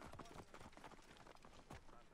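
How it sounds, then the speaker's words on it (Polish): Horse hooves clip-clopping in the video game Assassin's Creed Origins, a quick run of faint, rhythmic hoofbeats at a steady gallop-like pace. "No to jedziemy na koniu w takim razie."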